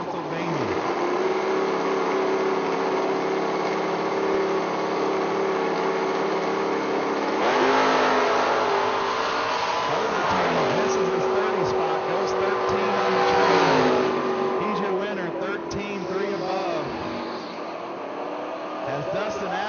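Footbrake drag race cars launch side by side at a Southern FootBrake Challenge, loud engines droning steadily, then surging and revving harder midway before easing off.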